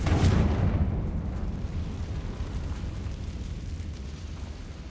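A Confringo spell explosion in the Hogwarts Legacy video game bursts loudly at the start, then settles into a rolling, rumbling roar that slowly fades over several seconds.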